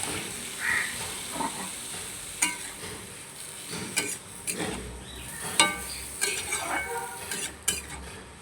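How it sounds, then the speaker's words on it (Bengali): Ridge gourd and potato stirred with spices and a splash of water in a pan for a Bengali jhinge bora curry, giving soft sizzling under repeated spoon scrapes and clinks against the pot, close by with no talk. "জল দিয়ে মশলার সাথে ঝিঙে আর আলুটাকে একটু কষিয়ে নেবো।"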